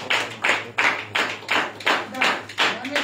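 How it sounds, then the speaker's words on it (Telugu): Churchgoers at a New Year's worship service clap in a steady, evenly spaced rhythm, about seven firm claps over three seconds, filling the hall. "ఓకే, మరొకసారి చప్పట్లు కొడదామా?"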